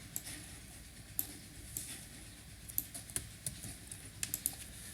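Java code typed on a computer keyboard: close, quiet clicking of keys in uneven bursts with short pauses, and no one speaking.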